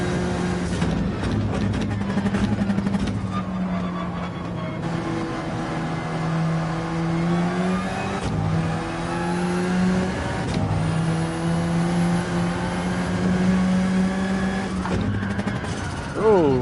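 A race car engine in Gran Turismo 7 during an online lap, with a loud, steady roar that rises and falls in pitch through gear changes and revving, while someone talks over it.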